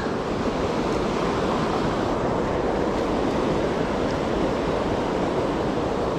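A small trout river rushes just below a waterfall in a loud, dense, unbroken roar of water that stays constant throughout, with no voices or other sounds.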